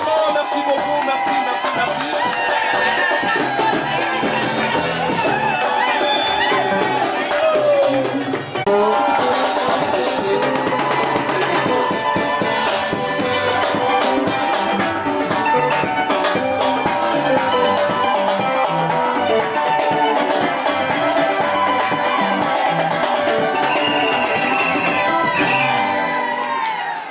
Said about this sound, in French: Vos applaudissements, vos applaudissements, merci beaucoup, merci.